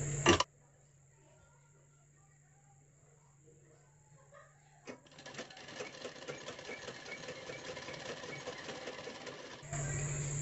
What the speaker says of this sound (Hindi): इसे हम इस तरह मोड़ते हुए सिलाई लगा कर बनाएंगे